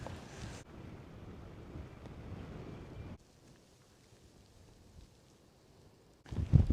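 Wind gusting outdoors at a campsite on the Norfolk Broads, a steady rushing buffet across the microphone that drops to a quieter breeze midway, then surges loud again at the end.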